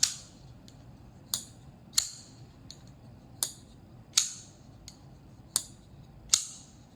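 Kubey folding knife flicked open and closed repeatedly, giving sharp crisp metallic clicks and snaps in an uneven rhythm with brief quiet gaps, heard close-up with no talking.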